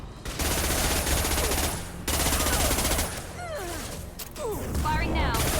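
Sustained automatic gunfire from a Mass Effect 2 firefight, loud and dense across the whole stretch with two brief breaks, overlaid by sweeping whooshes and gliding electronic weapon effects.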